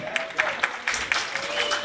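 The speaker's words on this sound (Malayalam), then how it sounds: "Let's give them a big round of applause, please." Audience applause at a family fun night, a crowd clapping steadily with sharp individual claps standing out throughout, fairly close, with a faint voice in the background.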